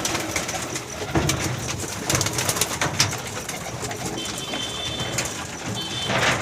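Pigeons coo steadily at close range, with soft rustling and brief flutters over a constant busy background and no talking.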